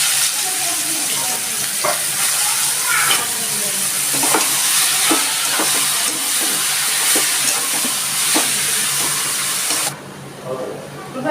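Ridge gourd frying in mustard oil with dry red chilli and cumin in a kadai, with a loud continuous sizzle and hiss broken by regular spatula scrapes; the sizzle drops sharply near the end.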